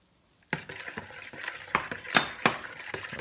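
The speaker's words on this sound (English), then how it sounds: "now we're going to add the melted butter in and whisk it again" Pancake batter with melted butter is whisked in a bowl, giving a run of close scraping, clinking strokes in an uneven rhythm, starting after a brief silence.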